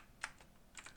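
A handful of quiet keystrokes on a computer keyboard, light clicks spaced irregularly across a second in a hushed room.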